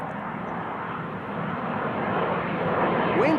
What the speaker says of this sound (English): E2 Embraer 195 to Billund. KLM flight